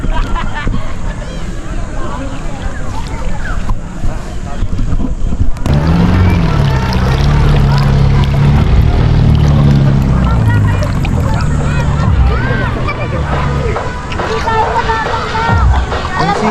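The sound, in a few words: boat engine running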